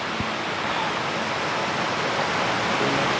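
A river flows with a steady, continuous rush of water that stays even and loud throughout, with no voices.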